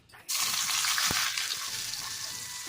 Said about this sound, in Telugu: ఇప్పుడు అదే బాండల్లోకి కొద్దిగా నూనె పోసుకొని మనం ముందుగా కట్ చేసి పెట్టుకున్న 2 ఉల్లిపాయలని వేసుకోవాలి